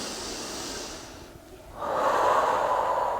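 A deep breath during a home yoga practice, a long airy inhale swelling up after a brief pause, close and steady, with no talk over it.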